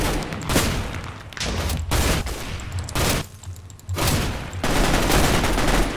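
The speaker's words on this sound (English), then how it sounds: "It's a shotgun." Nova shotgun blasts in the Minecraft-based Mine Strike shooter, several loud booming shots at irregular intervals mixed with other gunfire, no talking.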